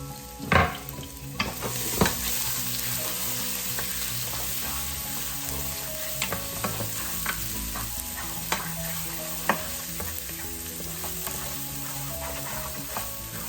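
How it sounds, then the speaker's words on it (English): Onions and garlic sizzle in reused oil in a pot for Filipino pork belly hamonado, a continuous close frying hiss with scattered stirring clacks and utensil taps against the pot, no talking. "We're going to use the same oil that we did here. Put your onions and garlic there."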